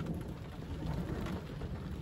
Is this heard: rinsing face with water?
no